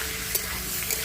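A pan of frying cauliflower and capsicum sizzles after a splash of water goes in, a brief hissing burst with faint clinks, heard alone and close.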